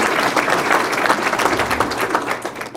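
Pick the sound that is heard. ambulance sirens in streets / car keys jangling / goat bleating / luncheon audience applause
luncheon audience applause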